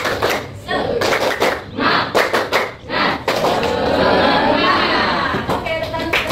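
A classroom does a rhythmic spirit clap (tepuk semangat), with several bursts of patterned hand claps and thumps separated by short pauses, then a longer stretch of mixed clapping and chatter.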